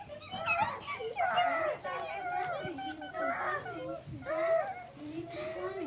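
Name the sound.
children imitating bird chirps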